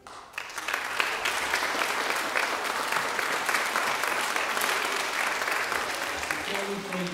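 A school concert audience claps in sustained, dense applause that runs loud and even from start to finish, with a voice briefly audible as it tails off.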